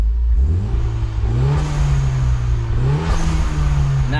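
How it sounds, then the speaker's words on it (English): A turbocharged Mitsubishi Evo X engine is free-revved twice, the pitch climbing then easing back, with a brief airy whoosh from a blow-off valve as it drops, no talking. "I used to never be able to hear my blow-off valve when I just free revved it."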